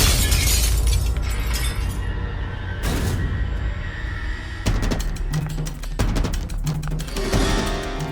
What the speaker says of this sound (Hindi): मेरी कार का कांच टूट गया